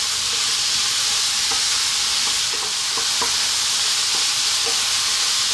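Ground beef seasoned with black pepper and salt fries in a pan, a steady loud sizzle with occasional scraping knocks from a stirring spoon.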